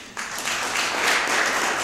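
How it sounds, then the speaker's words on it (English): Sudden burst of audience clapping at a motivational talk, starting abruptly and holding a dense, steady wash of many hands for under two seconds. "Let's give him a clap."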